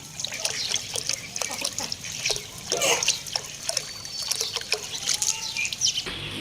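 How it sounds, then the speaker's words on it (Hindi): Water trickles and splashes as it is poured out for ducklings and chicks, a steady close pouring sound with small drips and scattered bird calls around it. "डकलिन और चिक्स के लिए पानी भी डाल देते हैं।"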